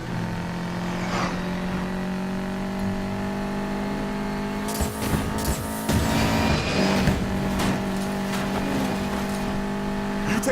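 A car engine racing in Need for Speed Payback, a steady droning motor with tire and impact noises breaking in midway, loud and continuous throughout.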